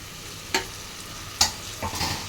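Tomato pieces fry with broad bean curry in a pan, a steady close sizzle broken by three sharp scraping strokes of a spatula, no voices.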